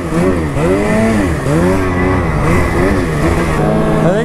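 A snowmobile engine runs loud and close, its pitch rising and falling in repeated swells as the throttle works on a ride in thin snow, the roar steady with only brief dips.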